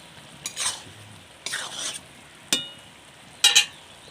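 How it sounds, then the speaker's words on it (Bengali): Snail curry stirred in a pan, with four distinct scraping strokes of a spoon spaced about a second apart over a faint background sizzle. "এবার আমি ভালো করে নেড়ে জিরে গুঁড়ো ছড়িয়ে দিয়ে লাভিয়ে নেব।"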